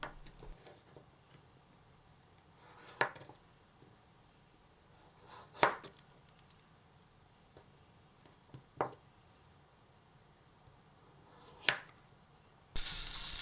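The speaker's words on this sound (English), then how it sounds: "Chamfering helps prevent the pumpkin from the breaking apart during cooking and allows better absorption of the flavors." Knife chamfering the edges of cut pumpkin pieces for a Japanese stew, heard as four or five sparse, crisp cuts spaced a few seconds apart against a quiet kitchen background.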